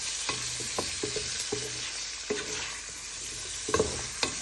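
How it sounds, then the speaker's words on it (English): Sweet and sour pork stir fry sizzles steadily in a hot pan while a utensil scrapes and knocks through it in a handful of uneven strokes, close and fairly loud. "Give this all a good stir."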